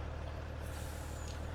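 A logging truck in Farming Simulator 19 gives a steady, close engine rumble with a hissing air-brake tone, constant and unbroken over a short stretch, with no voices.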